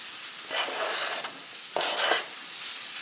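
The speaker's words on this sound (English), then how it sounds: "I'm going to throw my bacon into it." Bacon sizzles in an enameled Dutch oven, a steady close hiss of frying fat that swells in two louder bursts, as if being stirred, with no talking.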